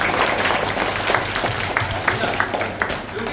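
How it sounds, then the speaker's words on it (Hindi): A group of schoolchildren at JIE International School clapping together in a classroom, giving a dense, steady burst of applause close by for a few seconds. "जोरदार ताली।"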